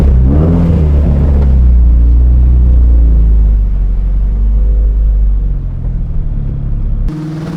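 A built Mazdaspeed3 engine runs hard on a dyno, a loud, deep rumble and rising rev that holds steady before easing off and cutting to a quieter idle near the end, close and without talk.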